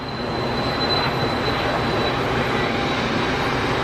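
Airliner touching down at Geneva Airport with a skid, heard as a steady, loud broadband roar of engine and rolling noise lasting throughout with a thin high whine above it, no voices.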